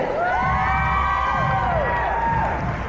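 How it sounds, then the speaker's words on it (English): An audience at a cosplay contest keeps up steady applause and cheering for the judges, with whoops and high shouts over continuous clapping throughout. "a round of applause again for our lovely judges"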